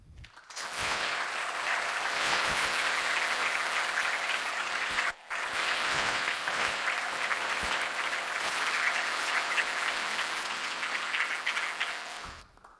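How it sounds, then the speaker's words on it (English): Sustained applause from a large keynote audience at a company's ten-year celebration, loud and dense for about twelve seconds, with one brief dip near the midpoint before it swells again and tapers off. "I want to dedicate the last applause of the night to them"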